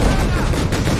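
Barrels explode in Company of Heroes 3 gameplay, a loud, dense burst of blasts and gunfire filling the whole moment with rumbling low-end crackle.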